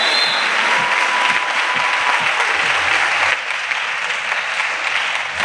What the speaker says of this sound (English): Let us first clap.